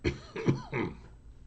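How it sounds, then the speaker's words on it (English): Three short, raspy coughs in quick succession, close and fairly quiet, followed by a brief fading breath. "Still coughing."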